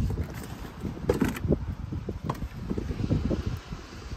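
Steady wind buffeting the microphone, rough and gusty throughout with irregular bursts of rumble.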